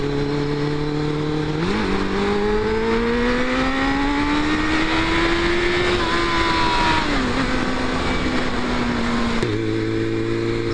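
A Suzuki Bandit 600 motorcycle engine drones loudly on an open road, its pitch rising and falling through the gears with a couple of clear shifts, and no talking over it.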